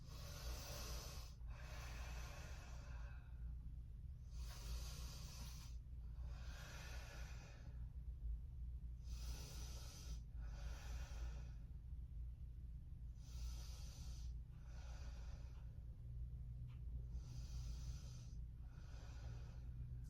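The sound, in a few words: breathing while holding a yoga pose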